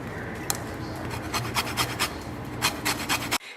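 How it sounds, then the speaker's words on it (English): Lemon rind is rubbed against a grater in a home kitchen, giving a steady run of close, rasping scrapes with a brief sharp knock near the start, ending abruptly. "then I'm going to zest in the lemon"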